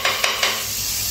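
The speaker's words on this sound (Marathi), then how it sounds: "पहिले आपण बटर लावू तव्याला" Butter sizzling on a hot tawa, a close, steady hiss with a few quick scraping clicks near the start as it is spread.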